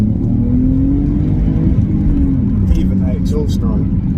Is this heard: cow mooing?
no